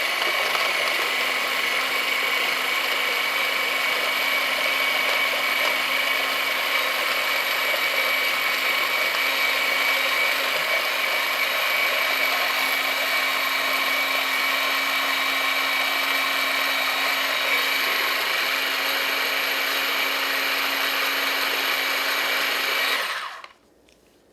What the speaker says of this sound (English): So once again, we're going to mix until evenly.